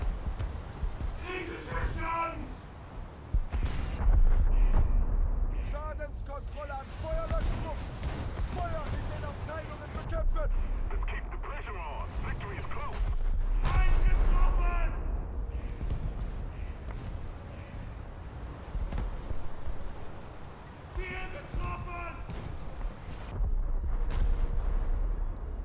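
The Scharnhorst battleship fires its guns in World of Warships: several deep booming salvos roll out at intervals, with someone talking over most of it.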